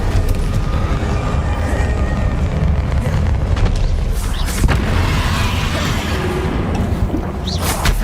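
Confringo blasting spells in the Hogwarts Legacy video game explode in a steady, loud barrage of booms and bursts over deep rumbling, close and continuous, with brief sharper cracks scattered through and no clear voices.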